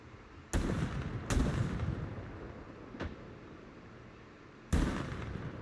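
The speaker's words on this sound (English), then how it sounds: "you gotta shoot, and when your clip's empty, you gotta move the vehicle out of the way" Gunshots ring out in the video game Project Zomboid, four sharp, loud reports spaced irregularly, each followed by a rumbling echo that decays between shots.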